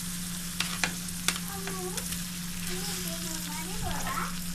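Eggs go into a pan of fried spiced masala, bringing a steady close sizzle with a few sharp clicks early on. A voice speaks softly over the frying.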